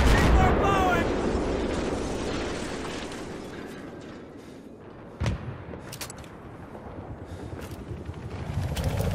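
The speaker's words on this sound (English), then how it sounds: "C4 blowing!" C4 explosion in Battlefield 3 rumbling amid ongoing battle noise and gunfire, with a sharp blast near the middle and scattered shots after, under in-game radio voice callouts.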